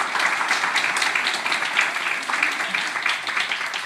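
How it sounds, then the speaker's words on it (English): An audience claps for the team behind a bladder cancer patient forum, a steady broadband patter of many hands that holds evenly for several seconds, moderately loud and without voices. "So if you could just have a clap."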